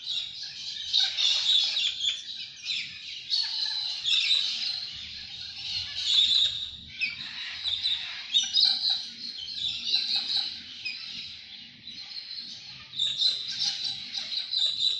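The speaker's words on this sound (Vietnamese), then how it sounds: "Và hai chú vẹt xám này." Grey parrots perched on city power lines in Sydney keep up a steady stream of chirping, squawking calls for several seconds, near and fairly loud against a low street rumble.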